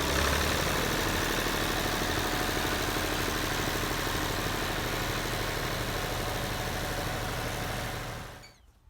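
A David Brown 885 tractor engine idling, made in England, a loud steady rumbling drone held evenly throughout, then cutting off abruptly at the end.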